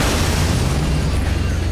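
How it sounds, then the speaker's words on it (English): A mud-racing vehicle in Motorstorm explodes after its turbo overheats, a loud, dense roaring blast of noise with deep rumble that fills the whole moment without a clear single onset. "Let it get too hot, and it'll explode in a blaze of mud-splattered glory."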